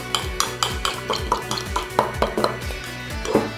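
Quince paste mixture being stirred in a bowl with dissolving gelatin, giving a steady run of soft scraping strokes and light utensil clinks against the container, close and fairly quiet.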